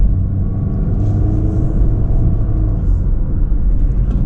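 2026 Honda HR-V LX AWD pulling away, a deep steady engine rumble and road noise heard from inside the cabin, loud and constant with no talk.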